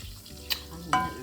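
A piece of butter, with a little olive oil, melts in a pot with a soft sizzle and two brief stirring scrapes, close and quiet, no talking.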